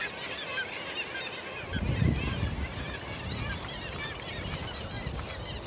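A colony of nesting pelagic cormorants on Middleton Island gives a dense, continuous mix of harsh, honking calls over constant outdoor background noise, with a louder burst of low grunting partway through.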